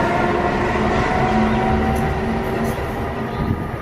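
An Amtrak passenger train pulls away from the little-used North Philadelphia station, producing a loud, steady rolling rumble and wheel noise that fades slightly toward the end, with no voices.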